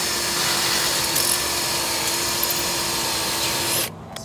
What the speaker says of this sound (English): So you're gonna have to drill in.